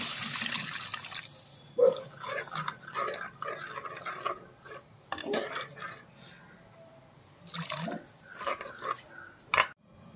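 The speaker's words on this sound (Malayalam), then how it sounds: "ഇനി അതിലേക്ക് ആവശ്യത്തിനുള്ള വെള്ളം ഒഴിച്ച് കൊടുക്കുക." Water poured into a pan of fish curry (velapara fish) after the fried spice powders have browned, splashing and trickling in uneven bursts over several seconds with a few sharper drips and clatters.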